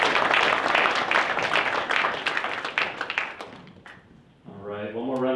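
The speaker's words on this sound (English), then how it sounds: "one more round of applause for student government officers" Audience at a school board of education meeting applauds a student speaker, a dense burst of clapping that tapers off; a voice begins talking afterward.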